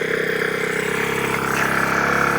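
A weak scooter engine straining while riding, a steady droning rattle with a faint rise in loudness toward the end.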